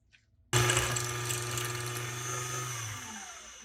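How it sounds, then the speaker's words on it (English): Vintage Singer 301 sewing machine winding a bobbin, a steady close whirring motor hum that starts abruptly after a brief quiet moment and runs continuously, easing slightly toward the end. "And then I'm just going to keep winding."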